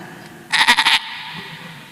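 A voice imitates a baby goat bleating during an Islamic sermon: one short, quavering, pulsing bleat of about half a second, loud and clear against a quiet room.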